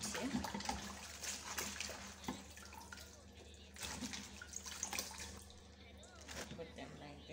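Lettuce is washed in water for an Arabic fattoush salad, with close splashing, dripping and running-water sounds in uneven bursts while a person talks over it.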